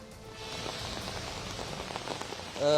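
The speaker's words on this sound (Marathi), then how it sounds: "आज पुण्यात पुन्हा एकदा अवकाळी पाऊस पडू लागलाय" Steady heavy unseasonal rain pours down in Pune, a dense continuous hiss of drops hitting surfaces, with no voices.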